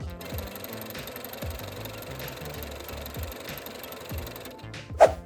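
A sewing machine stitches side pieces of fabric in short running bursts, with a close rhythmic mechanical rattle, brief pauses between runs and a sharp knock near the end, with no talk.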